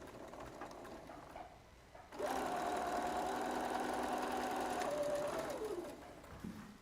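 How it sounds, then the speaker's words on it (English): A domestic sewing machine stitches quilt fabric pieces in one steady whirring run of about four seconds that starts and stops abruptly, close and fairly loud, with soft handling noises before and after. "We're just going to stitch a couple of stitches off the end of the fabric."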